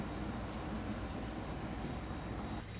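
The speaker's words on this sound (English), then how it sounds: "They're now running the locomotive around our train." A locomotive on the Strasburg Rail Road runs around the passenger train, a low, steady, distant rumble of engine and rolling wheels that holds evenly without talk.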